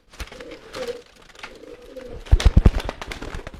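Racing pigeons at a bird market coo in soft, low repeated phrases, with a cluster of sharper wing flaps or thumps near the end. Faint background noise.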